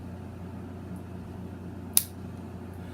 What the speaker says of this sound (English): Very audible, very tactile. You will feel it and you will hear it